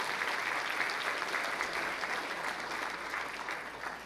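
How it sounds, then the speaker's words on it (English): A large audience applauds steadily at a Buena Park State of the City 2025 civic event, a dense, even wash of clapping that holds for the whole stretch with no voices over it. "Give yourselves a round of applause for that."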